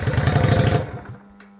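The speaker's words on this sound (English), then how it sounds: "It looks like it's just starving for fuel." Yamaha XVS 125 Dragstar engine running rough and starved of fuel, a close, uneven sputtering chug for under a second before it dies away to a low hum and near silence.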